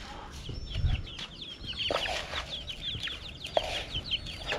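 Hungry pure Kabir free-range chickens clucking close by in hot weather, a dense flock chorus of overlapping clucks and chirps with a few low thumps, no talking.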